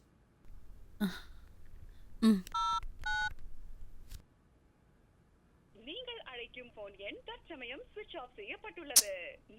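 A phone number being dialed, with a few distinct keypad tones in a quick sequence, preceded by brief sounds and followed by speech.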